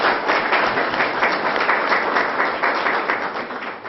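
Sustained audience applause for a businessman at a public town-hall meeting in Lapta, a dense steady wash of many hands clapping close and loud throughout, slowly easing near the end.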